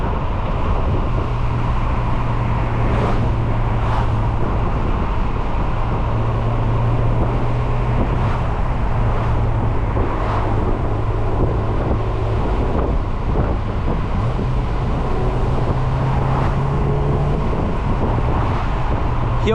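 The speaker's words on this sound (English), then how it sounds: "Heel toe rev matching" Engine of a 2005 Honda S2000 AP2 sports car with 32k miles rising and falling through heel-toe rev-matched downshifts on a drive, loud and continuous in the cabin with steady wind and road roar.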